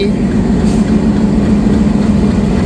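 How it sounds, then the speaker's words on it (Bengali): A 6500 series diesel locomotive, number 6550, hauling the Shimanta Express, rumbles steadily and loudly close by with a deep idling engine drone and no break. "ছয় হাজার পাঁচশো সিরিজের লোকোমোটিভ যার কোড নাম্বার ছয় হাজার পাঁচশো পঞ্চাশ"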